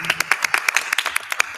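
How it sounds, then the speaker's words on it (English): Board meeting audience clapping in thanks for a retiring staff member: a quick run of distinct, fairly loud claps from a small group, evenly paced and close. "as you give her a clap for thank you for her service"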